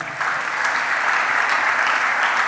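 A church congregation applauds during a worship service, a dense, steady clapping that fills the room for the whole stretch, loud and sustained with no clear speech.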